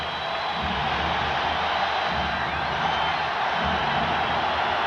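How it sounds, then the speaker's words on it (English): A packed NBA basketball arena crowd roars in a steady, dense wash of cheering during a 1990 Trail Blazers versus Spurs game, loud and sustained without any break. "Porter trying to urge the crowd on to be louder. I don't know how much louder they can be."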